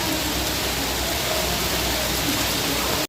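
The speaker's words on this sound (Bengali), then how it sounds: "দেখো খুব জোরে বৃষ্টি হচ্ছে" A constant roar of heavy rain pouring down, broad and unbroken, cutting off abruptly at the very end.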